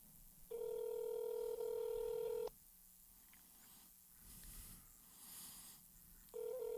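Steady telephone tones on a call-in line come in two sustained electronic blocks, each lasting a couple of seconds, with quiet line hiss between them and a third tone starting at the end.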